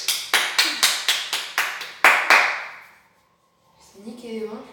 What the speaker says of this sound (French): Là on peut l'applaudir